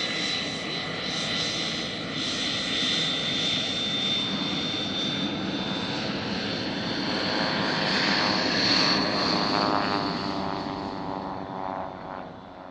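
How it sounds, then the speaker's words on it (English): Two Cessna 337 twin-engine push-pull propeller planes at an airshow roar past in a sustained, loud drone with a slowly shifting pitch that swells and then eases, with no talking. "This is Formación Quioti, flying two Cessna 337s."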